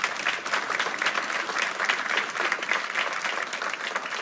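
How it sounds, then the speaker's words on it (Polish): Audience applause for the debaters at a youth city council debate in Płock, a steady, dense wash of many hands clapping throughout, moderately loud with no talking over it. "poproszę o brawa na naszych debatantów"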